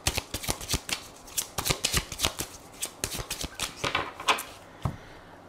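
Tarot cards shuffled in a run of quick, crisp riffling flicks and slaps, close and alone, with steady bursts through most of the stretch and a few final taps near the end.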